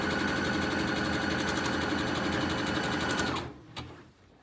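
A sewing machine runs a zigzag stitch around an elastic waistband, a fast steady mechanical whir and needle chatter close by that stops abruptly near the end, followed by a small clunk.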